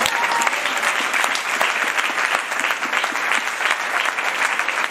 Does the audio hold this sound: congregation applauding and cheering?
yes